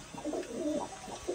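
Pigeons coo in soft, rounded, repeated calls, close by and clearly heard over a hissy background, with no talking.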